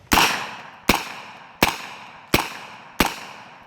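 Five sharp gunshots from an Omega MP5 pistol-caliber carbine firing 147 grain rounds, evenly spaced about three-quarters of a second apart, each a close crack with a short decaying tail, no talking.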